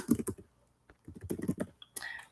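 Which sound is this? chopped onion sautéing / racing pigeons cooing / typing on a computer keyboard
typing on a computer keyboard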